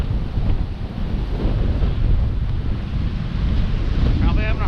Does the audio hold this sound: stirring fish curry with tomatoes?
no